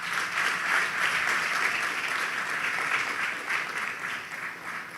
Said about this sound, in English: Graduates, please stand up to give your parents a special round of applause.